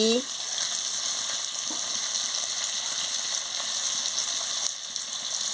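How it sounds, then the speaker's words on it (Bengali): Constant loud sizzling of a spice paste being fried with salt in a hot pan for a cabbage fritter curry, with faint stirring scrapes, steady from start to finish. "মশলাটাকে ভালো করে কষিয়ে নিচ্ছি"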